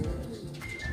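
Racing pigeons cooing, a low soft throaty murmur that runs steadily through the whole second, close by, with no talk.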